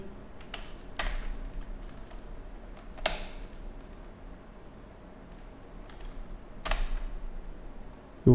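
A computer keyboard clicks in scattered bursts as text is typed, with sharp individual key taps and short quick runs separated by quiet pauses, close and alone.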